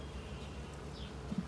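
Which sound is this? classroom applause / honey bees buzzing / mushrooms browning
honey bees buzzing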